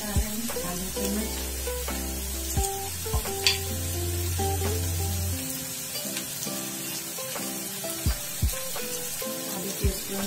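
Garlic ginger paste for veg Manchurian sizzles and crackles in hot oil, with sharp stirring taps over a steady fry and background music.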